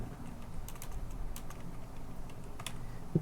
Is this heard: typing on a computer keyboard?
yes